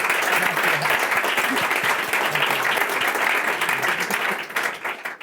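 A large audience applauds loudly and continuously, dense clapping that begins to thin out near the end.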